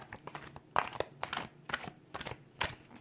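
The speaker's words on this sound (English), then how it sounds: "One more shuffle." A deck of tarot cards is shuffled by hand up close, producing a series of soft, quiet riffling and flicking bursts in an irregular rhythm.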